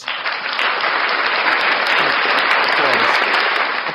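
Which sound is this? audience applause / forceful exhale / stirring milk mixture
audience applause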